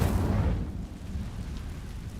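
Incendio fire spell cast in Hogwarts Legacy at dry vines: a single loud fiery whoosh that bursts out at once and fades into a low, crackling rumble over about two seconds.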